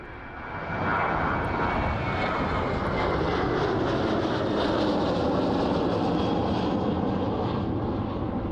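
An Airbus A300 taking off from East Midlands Airport in the evening, its engines rising quickly to a loud, steady, broadband roar that stays close and sustained throughout, with no voices.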